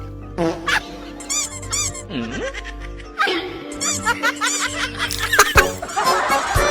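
A chicken wearing shoes makes short clucks and bursts of high, squeaky, toy-like sounds that come in irregular clusters, with a person talking between them.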